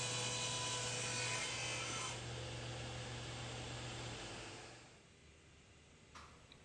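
A power saw cuts a 10-degree bevel into wooden bottom cross members for a love seat, a steady loud whine with a low hum that fades away after about five seconds into quiet.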